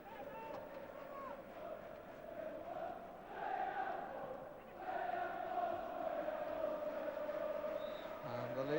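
Leeds United supporters chanting in the late minutes of a match away at Sheffield Wednesday, a sustained distant crowd chant swelling and holding under steady background noise.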